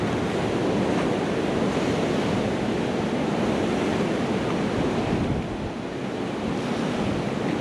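Ocean surf crashes and rushes continuously onto a rocky Nicaraguan beach, a loud, dense roar of breaking waves mixed with gusting wind noise.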